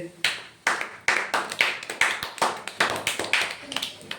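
Students in a primary maths class clap in a quick group burst, a run of distinct sharp claps in an uneven rhythm, close and fairly loud, with no talking over them.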